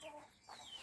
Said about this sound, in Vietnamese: Đây là con gà, đàn gà này to thế nhờ.